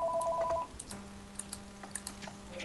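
Telephone keypad tones beep in a quick series of dialing pips, then a steady low electronic tone with scattered short beeps, close and fairly clear, with no talking.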